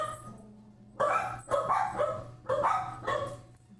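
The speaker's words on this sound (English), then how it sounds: "Sorry, my dogs are going crazy." Several dogs barking indoors in loud, repeated bursts, about four clustered volleys with short gaps, fairly close, over a steady low hum.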